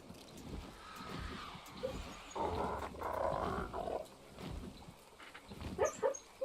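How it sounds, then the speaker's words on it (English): A sleeping dog lets out muffled, whimpering barks and low growls indoors, several soft irregular bursts at a moderate distance over a quiet background. "it's my dog. She fell asleep in here and is sleep barking."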